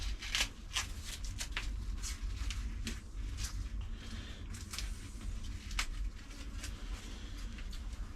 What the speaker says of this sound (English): Now if this goes like paper, the outside leaves, just remove those.